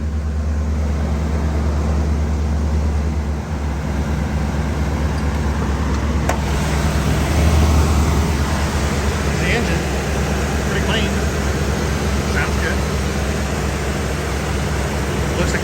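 A 1984 Mercury Capri ASC McLaren convertible's carbureted 5-liter V8 idles steadily under the open hood, a constant low rumble with a faint background hiss and one brief change near the middle.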